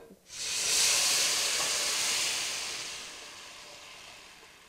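A blended tomato, onion and pepper mix hits about a cup of hot peanut oil and erupts into a loud, close sizzling hiss that swells quickly and then slowly fades over a few seconds.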